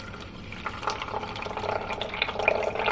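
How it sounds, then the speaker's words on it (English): Almond milk pouring into a blender for a blueberry and hemp heart smoothie, a soft trickling and splashing liquid stream that grows a little louder over a few seconds. "then I do a serving of the almond milk, which I do 240"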